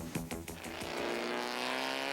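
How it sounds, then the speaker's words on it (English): Race cars at Shannonville during the 1990 Firestone Firehawk series, a Porsche 968 chasing the leader: a loud, steady engine drone with sharp transient bursts early on, heard close without talk. "Rick Bai in his 680 Porsche trying to catch the top cat"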